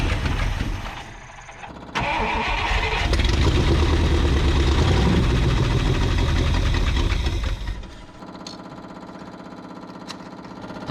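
A long-abandoned 1962 Buick Invicta wagon engine, pulled from a salvage yard after 53 years, turns over and then runs loud and rough at a steady idle. It drops back to a quieter, uneven murmur near the end.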